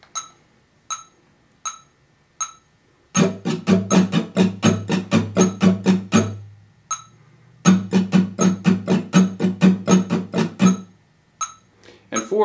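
Acoustic guitar strumming in a beginner rhythm exercise: a few sharp metronome clicks alone, then two long bursts of fast, even strums at three per click, each burst ending with the clicks ticking on by themselves.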